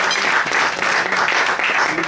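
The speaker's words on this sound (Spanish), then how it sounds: "Y un aplauso." An audience at a Rotary district governor's visit breaks into brief, loud clapping, a dense close patter of many hands lasting a couple of seconds.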